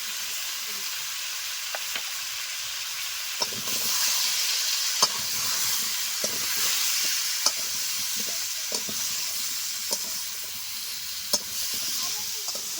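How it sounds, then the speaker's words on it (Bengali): Cumin, coriander and dried chilli fry in hot oil in a pan for a fish curry with pumpkin, a steady loud sizzle broken by regular scrapes and taps of a spoon as the spices are stirred. "মশলা দেওয়ার পর তিন চার মিনিট আমি নেড়ে নিয়েছি"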